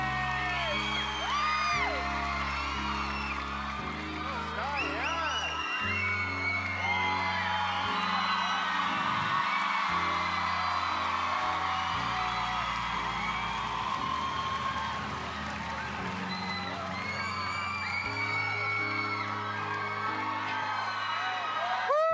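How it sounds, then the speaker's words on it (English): A talent show audition audience, with X Factor Australia named as the show, cheers, whoops and yells loudly and without pause in a big hall. The crowd noise runs over sustained music and never lets up. "Listen to that crowd going crazy."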